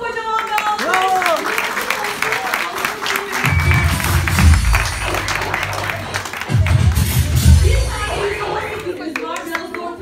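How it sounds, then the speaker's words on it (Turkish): Audience applause at an Oriflame stage celebration, broad crowd clapping swelling in two loud bursts alongside an amplified voice talking over it. "Hatice Hanım'a kocaman bir alkış."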